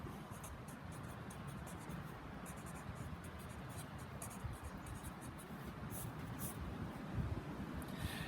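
A marker or chalk scrapes across a classroom board while words are written during a geology lecture. The scraping is faint, steady and continuous, with a low room hum underneath and no voice.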